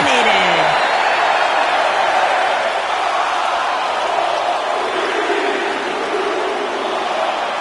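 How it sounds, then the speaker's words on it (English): Arena crowd noise in the wrestling video game WWE 2K19, a dense broadband roar sustained throughout, with commentary speech over it. "Listen to this crowd."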